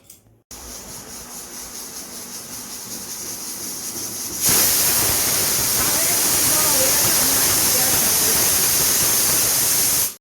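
A pressure cooker of masoor dal with vegetables and green chillies hisses steadily, then bursts into a louder, sustained whistling rush of steam that fills the rest of the stretch.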